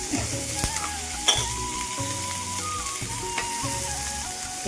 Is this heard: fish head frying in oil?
yes